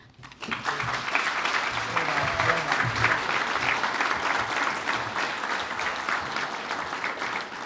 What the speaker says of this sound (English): One more round of applause, please, for all our finalists